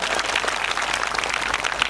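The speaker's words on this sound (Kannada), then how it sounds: "ಆ ಮುದ್ದು ಮಕ್ಕಳಿಗೆ ನಿಮ್ಮ ಚಪ್ಪಾಳೆ ಮುಖಾಂತರ ಅಭಿನಂದನೆಗಳನ್ನು ಸಲ್ಲಿಸೋಣ" An audience at a Srimad Bhagavata Saptaha religious program applauds children after their prayer songs. The clapping is dense and continuous and stays steady throughout, with no voices over it.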